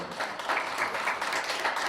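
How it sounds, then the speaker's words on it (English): A few staff members clap at a nearly empty National Action Network rally, producing faint, sparse, slightly uneven hand claps with no crowd behind them. "The few hands you hear clapping are staff that is here to help"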